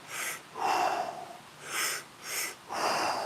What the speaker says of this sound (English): Mouth breathing is going to make this stuff a bit more effective.